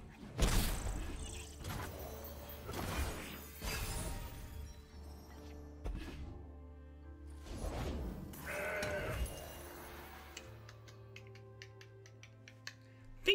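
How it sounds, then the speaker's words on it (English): A goat bleats several times in Legends of Runeterra, its calls coming in short bursts among card-game effects, crashes and shattering sounds, with a sparkling chime near the end. "I think I just kill the goat before they get a gem."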